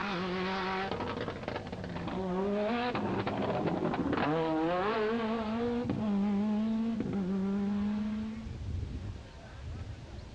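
Rally car engine revving hard and shifting through gears during the 1999 Monaghan Stages Rally in Irish countryside, rising and falling pitch as it races past, loud and close.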